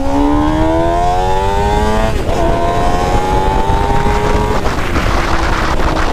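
A Suzuki GSX-R 600 motorcycle engine revs high and smooth, its pitch climbing through several gears with brief dips at each shift, loud and close with no talk.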